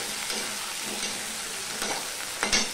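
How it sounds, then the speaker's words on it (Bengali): Pieces of gathi kochu (taro) sizzle steadily in hot oil in a pan and are stirred, with a few louder scraping strokes near the end, while being fried for a thin hilsa curry. "এবার আমি গাঠি কচুটা দিয়ে দিলাম"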